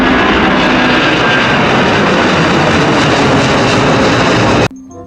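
A steady, loud jet-like roar of an Airbus Beluga airplane drones on without letup, then cuts off abruptly near the end, leaving only a low faint hum.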